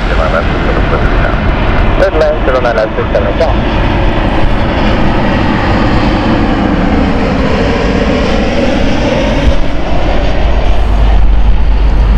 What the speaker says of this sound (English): Swiss Airbus A320 Neo here.